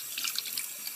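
Tap water runs steadily from a faucet into a sink, rinsing depotted candle jars, with a soft continuous splashing and no voices.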